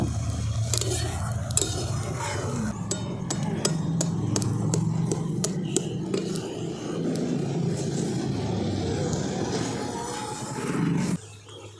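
A utensil stirs curdling milk into chhena in a pan without pause. It makes steady, rhythmic scraping and clacking strokes close up over a low background hum.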